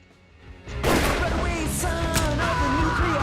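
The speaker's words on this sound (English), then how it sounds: "the one gunshot that we heard" A sudden loud gunshot-like blast cracks out under the soundtrack of the film The Life Aquatic with Steve Zissou, followed by sustained booming, crashing sound and music.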